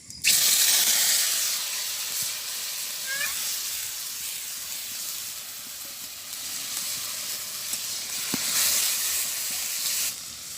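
Spice paste hitting hot oil alongside dried red chillies at a village night picnic, giving a loud, continuous sizzling hiss that swells at the start and persists with faint clatter throughout.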